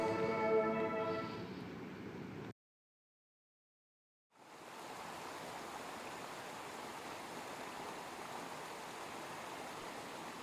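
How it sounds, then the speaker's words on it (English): Mountain stream running through conifer trees at the Whitney Portal trailhead, a steady, broad rushing of water close by, preceded by a short stretch of other noise and a brief silence. "I was greeted with the sound of running water coming through the trees."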